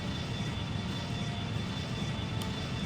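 Steady, droning engine noise of a Boeing 757 cruising in the flight game Extreme Landings Pro, a constant low rumble with a faint high whine above it, heard alone with no voices.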